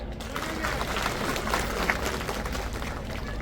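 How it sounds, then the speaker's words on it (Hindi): A crowd at a public meeting and thanksgiving rally in Kolaras clapping together, a steady, dense wash of applause sustained throughout at an even level. "तालियां बजाओ।"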